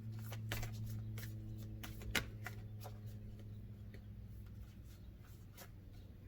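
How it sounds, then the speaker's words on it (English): Soft papery shuffling of an oracle card deck, brief riffles and taps over a steady low hum, close by, no talking. "one more shuffle"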